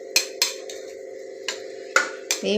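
A spoon scrapes and knocks against a pot while mushrooms and vegetables are stirred for biryani, a few sharp metallic clinks over a steady low hum of cooking.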